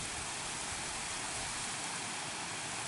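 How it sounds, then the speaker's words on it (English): A waterfall near an old cooling tower on a heritage trail, heard as a dense, unbroken hiss of falling water that stays loud and steady throughout. "Here is yet another waterfall."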